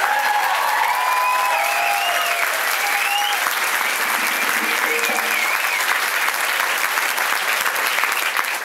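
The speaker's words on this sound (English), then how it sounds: "How about a huge round of applause" A large concert crowd at Rams Head Onstage, Annapolis, applauds steadily and loudly, with scattered whistles and cheers rising over the sustained clapping.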